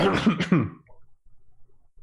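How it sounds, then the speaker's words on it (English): A single loud, harsh cough bursts out close by, followed by quiet low rustling, during a tabletop role-playing game session. "Someone coughs real loudly."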